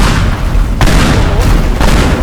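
Loud booming blasts from explosions in the destruction game Teardown land in two heavy bursts about a second apart over a dense, constant roar.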